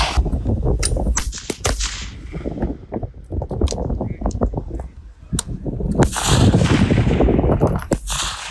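Rifle shots fired during a 600-yard F-Class shooting match: several sharp, loud cracks scattered irregularly across the span, with people talking throughout and a busy outdoor background.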